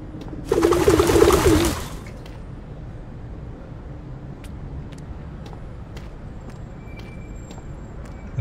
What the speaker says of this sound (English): Scare the other pigeons.